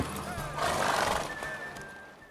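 A horse in The Witcher 3: Wild Hunt gives a loud whinnying neigh, with faint hoof clops, heard near and mixed with game background sound and some talking.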